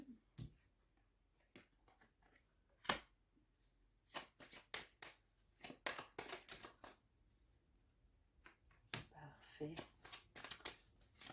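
Tarot cards are shuffled and handled close by in a quiet room, the riffles and slaps coming as short sharp bursts with pauses between them, while someone speaks quietly in between.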